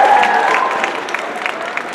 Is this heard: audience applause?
yes